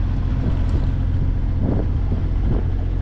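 A sailboat motors under engine near a harbour channel, a steady low engine drone mixed with wind buffeting on the microphone, continuous and fairly loud.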